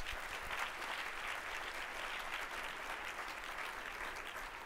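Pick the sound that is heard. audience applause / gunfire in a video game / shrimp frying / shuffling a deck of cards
audience applause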